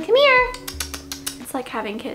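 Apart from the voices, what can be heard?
pet cat screaming meowing in the background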